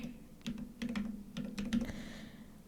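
Typing on a computer keyboard while playing Minecraft, a short run of close, distinct key clicks in an uneven rhythm with a low steady hum beneath.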